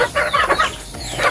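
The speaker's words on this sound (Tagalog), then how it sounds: "Meron pa tayong manok dito" Chickens cluck close by inside a chicken coop, a continuous overlapping chatter of several birds with no talk.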